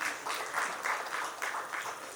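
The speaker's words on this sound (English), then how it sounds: "Big round of applause for Dr." Audience applause at a business panel discussion in Rajasthan, a steady broadband patter of many hands clapping throughout, moderately loud and close, with no talk over it.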